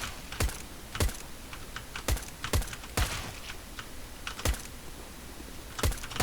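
Computer keyboard A and D keys pressed during a CS:GO match, a sparse run of sharp, close clicks about one every half second to second, irregularly spaced over a quiet background hum with no talk.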